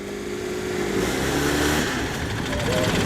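A Citroen 2CV race car engine is held at steady revs for a noise test at a circuit, a buzzing mid-pitched drone with slight wavering, nearby with a voice speaking over it.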